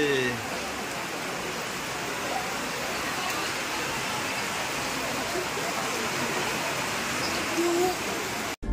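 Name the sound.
heavy rain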